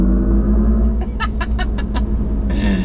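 A 1,000-horsepower GMC Hummer EV weighing nearly 10,000 pounds accelerates hard, giving a loud, steady low drone with a layered electric hum and a few short, chirping tonal bursts partway through.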